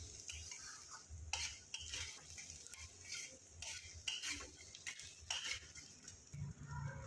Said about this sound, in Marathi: त्यात थोडंसं लाल तिखट टाकून परततोय